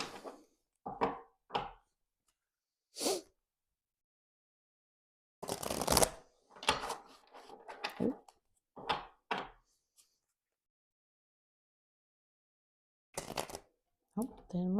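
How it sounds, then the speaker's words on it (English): Oracle cards being shuffled and handled, giving short papery bursts and thumps in separate clusters with quiet gaps between them, close and fairly soft. "I'll pull some oracle cards for any additional messages that want to come through"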